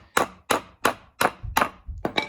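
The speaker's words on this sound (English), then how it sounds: "Just hammer it in." A hammer drives a nail into a wooden picture frame with five sharp, ringing metallic strikes at a steady rhythm, close and loud, the last two coming quicker.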